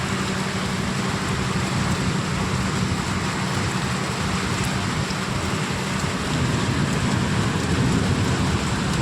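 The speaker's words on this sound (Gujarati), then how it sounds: "ફૂલ ફાડી નાખે એટલો વરસાદ આવી ગયો છે" Heavy rain with strong wind pours steadily and loudly throughout, a dense roaring wash with gusty rumble underneath and no voices, as water floods the ground.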